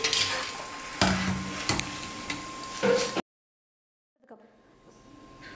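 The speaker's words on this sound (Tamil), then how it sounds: "இதே போல் எல்லா சிப்ஸையும் எண்ணெயில் போட்டு பொரிச்சு எடுத்துக்கிறேன்" Potato chips deep frying in hot oil for a mixture snack, a steady bubbling sizzle with a few clinks of a utensil, cutting to near silence before the frying resumes more faintly.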